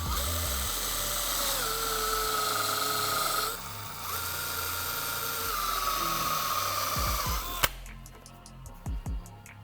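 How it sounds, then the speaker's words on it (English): A power drill whines steadily at high speed while boring two holes in the front bumper mount of a 2010-2012 Mustang, with a brief pause between holes and a few clunks at the end. "Since this is loose, just slide it forward and then drill out the 2 holes."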